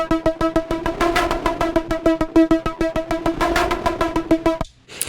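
A synthesizer arpeggio processed with an OTT-style compressor pulses in rapid, even notes with a bright, wide tone, then cuts off abruptly near the end.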